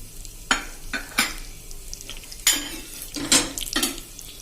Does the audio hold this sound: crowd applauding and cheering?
no